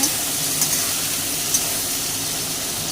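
Potatoes frying in oil in a kadai, a continuous close sizzling hiss at steady volume with a few faint pops and crackles.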